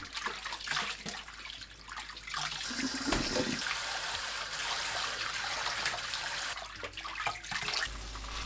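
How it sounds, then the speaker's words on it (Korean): Blanched amaranth greens are rinsed in cold water in a kitchen, giving a steady splashing, running-water wash that carries on throughout at moderate level. "찬물에 두세 번 헹궈서 뜨거운 열을 뺍니다."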